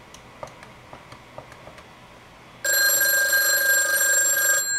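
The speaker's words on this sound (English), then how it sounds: "you'll see that that phone is ringing, or at least hear that" A loud, steady telephone ring starts partway through, after a few soft, evenly spaced clicks in an otherwise quiet room.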